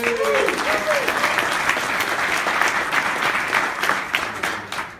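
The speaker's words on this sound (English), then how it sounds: "Give yourselves another round of applause." A crowd at a political gathering claps steadily and loudly throughout, the applause holding strong with a brief voice near the start.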